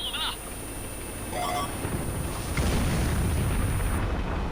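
Artillery explosions in a tank video game, deep rumbling booms building in loudness over a few seconds behind steady engine noise, with brief tonal game effects early on.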